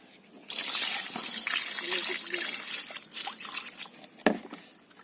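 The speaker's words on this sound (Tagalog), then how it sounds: "Hugasan muna natin yung isda." Tap water runs over fish being washed for kinilaw, a close, continuous splashing trickle that starts abruptly and varies as the fish is turned under the stream, with a brief thump near the end.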